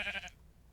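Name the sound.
sheep bleating in the video game Minecraft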